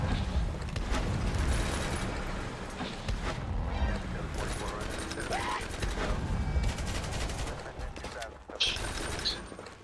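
Rapid machine gun fire from heavy gunners rattles in a Roblox combat game, dense bursts and crackling shots running throughout, with a player talking over the gunfire.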